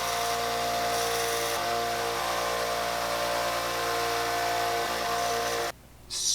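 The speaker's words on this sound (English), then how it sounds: "Sand that down." A power sander works on a small wooden spinner fishing lure, giving a loud, steady whirring grind that holds constant before cutting off near the end.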